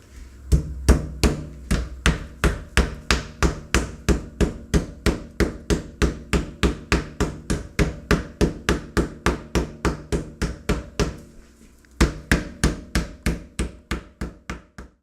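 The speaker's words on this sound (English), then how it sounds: "we're actually going to pound these pieces of venison down until they're only about 1/8 of an inch thick" A meat mallet pounds venison pieces flat between plastic wrap on a board, with a fast, steady run of close, loud thuds, a brief pause, then the regular blows pick up again.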